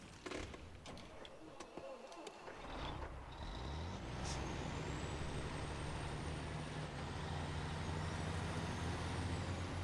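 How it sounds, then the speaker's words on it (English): A truck in the SnowRunner video game idles and then revs with a steady engine drone and a thin rising turbo whine. Faint clicks and bumps come before it, heard at low level. "I like the turbo whine there."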